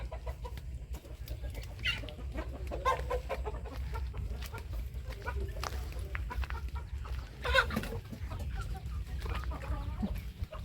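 Chickens cluck and murmur over a low steady rumble, with scattered short calls rising now and then, moderately close.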